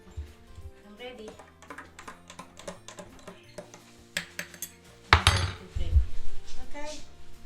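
A spoon clinks repeatedly against a glass while stirring a lemon juice drink, light rapid taps building to louder, denser clatter near the end, with someone speaking briefly.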